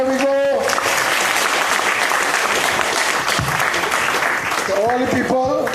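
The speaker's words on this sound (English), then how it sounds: "A round of applause for our DJs." Loud, dense applause from a crowd at the Barrackpore rally, saluting the DJs and lasting the full stretch, with brief musical tones sounding at the start and the end.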